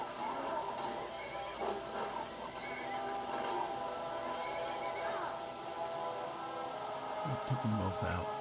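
Horse whinnies and hoofbeats from the Skyrim video game, a moderate neigh mixed into busy game ambience and combat noise, with a sharper burst near the end.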